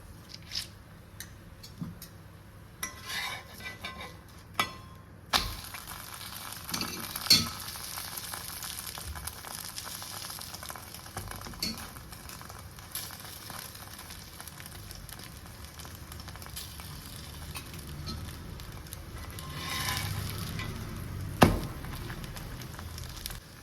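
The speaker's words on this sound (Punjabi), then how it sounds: "ਘਿਓ ਲਾ ਕੇ ਆਪਾਂ ਪਰੌਂਠੇ ਨੂੰ ਦੋਨਾਂ ਪਾਸੇ ਤੋਂ ਸੇਕ ਲਾਂਗੇ" Egg paratha brushed with ghee crisps on a medium flame with a soft, steady sizzle, quiet and close, broken by a few sharper clicks and stirring taps.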